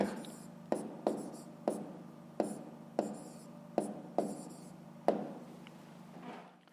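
A pen writes on paper, close and quiet, in a series of about nine short separate strokes at a fairly even rhythm, with no voice over it.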